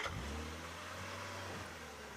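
Safari vehicle nicknamed Rusty starting up on a wildlife drive near African wild dogs, its engine revving high and droning steadily close by with no talk.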